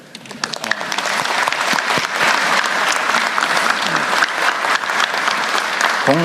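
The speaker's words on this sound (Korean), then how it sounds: "여기 또 박수 한번 쳐드릴까요?" Attendees at a government ministry work-report meeting on labour, SMEs and the Fair Trade Commission break into loud, sustained applause that swells quickly after a quiet start and stays full and close, with a voice briefly heard under it.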